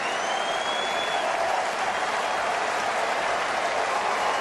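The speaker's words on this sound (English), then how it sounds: "everybody in the crowd giving Teoscar a hand" Baseball crowd at a Blue Jays–Mariners game in Toronto applauding a home run, a broad, steady wash of clapping and cheering that fills the whole moment without letting up.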